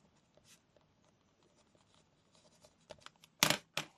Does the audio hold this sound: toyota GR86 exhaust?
no